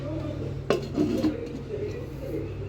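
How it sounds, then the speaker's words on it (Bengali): Cooked chicken is lifted out of a pan of spice masala, with a sharp utensil clink against the pan followed by a few softer scrapes and clatters over low background hum. "এখন এই রান্না করে রাখা চিকেনগুলো তুলে ফেলবো"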